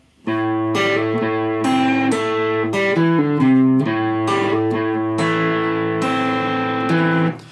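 An electric guitar plays a chordal intro riff, clear and sustained with a steady rhythm, chords changing every second or so and ringing out at the end.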